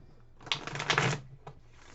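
Tarot cards being shuffled, a dense papery riffle building at mid-volume for under a second and stopping, then a short flick of cards, alone with no talk.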